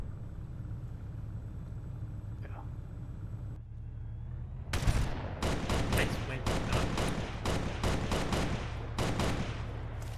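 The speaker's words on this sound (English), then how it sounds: "May I just get out and shoot them with a shotgun?" Repeated loud shotgun blasts from a video-game firefight burst out in a rapid irregular series over a rumbling engine-like background, following a brief quiet stretch.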